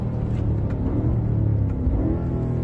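A BMW M5 safety car's engine and exhaust on a race track, a steady, full low drone with slight swells in revs throughout, close and continuous.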